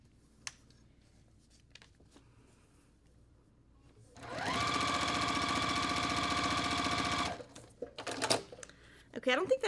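A sewing machine stitches quilt block seams in one steady burst of about three seconds, its motor buzzing close and loud, with quiet handling noises and someone speaking before and after.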